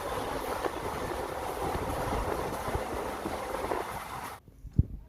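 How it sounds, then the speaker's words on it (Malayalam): A train rumbles and clatters steadily nearby as it arrives at Shoranur railway station, then the noise cuts off into near quiet with a single brief knock at the end. "നമ്മളിപ്പോൾ ഷൊർണൂർ റെയിൽവേ സ്റ്റേഷനിൽ ഇതാ നമ്മുടെ ട്രെയിന് എത്തിയിട്ടുണ്ട്"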